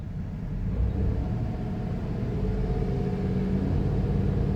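A GMC truck engine under light throttle, a steady low rumble that swells slightly, close and continuous with no talking.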